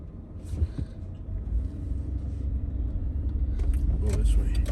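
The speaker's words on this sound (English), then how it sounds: "I love those old Chevy trucks" An old Chevy truck rumbles past on a Florida street, its engine a low, steady growl that swells louder toward the end, with voices and road noise mixed in.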